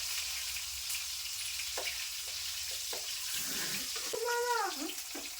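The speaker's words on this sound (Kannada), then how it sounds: "ಉಳ್ಳಾಗಡ್ಡಿ ಚಲೋ ಅದನ್ನ ಫ್ರೈ ಅಲ್ರಿ ಎಣ್ಣೆಗೆ" Onions frying in oil in a home kitchen, a steady close sizzle with crackles throughout and a brief tonal squeak near the end, no talk.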